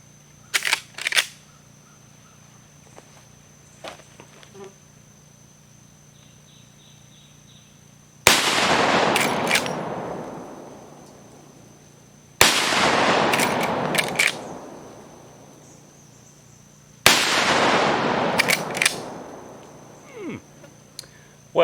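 Three rifle shots from a 360 Buckhammer firing 180 grain Federal PowerShock rounds outdoors, each a loud sharp crack with a long decaying echo, spaced about four seconds apart after some faint clicks and handling noises.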